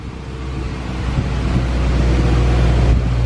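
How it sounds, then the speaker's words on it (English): A Honda Civic EG engine drones continuously with a low rumble and broadband wind-like noise, growing slightly louder toward the end. "Motor runs."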